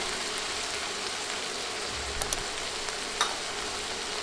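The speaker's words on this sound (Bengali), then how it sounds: "নেড়ে মশলাগুলো একটু ভেজে নিব" Ground turmeric, chilli, coriander and cumin frying for broiler chicken curry, a soft, even sizzle with a couple of brief spatula knocks against the pot partway through, no talking.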